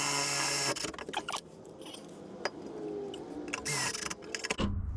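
A drill drives a self-tapping screw through a vehicle frame while a Chinese diesel heater is being installed: a loud whirring burst at the start, scattered clicks and knocks, then a second brief whir near the end.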